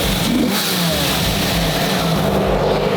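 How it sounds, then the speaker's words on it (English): A manual V12 Lamborghini engine revs hard and steadily, a loud continuous roar with intake rasp that swells and holds close by. "Yeah, give it a couple more revs."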